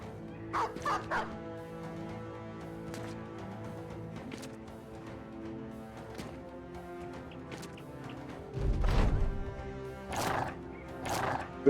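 Dogs unleashed in a Battle Brothers battle, a scattering of short barks and yelps amid tonal game sounds and music, with a louder rough burst near the end of the fight.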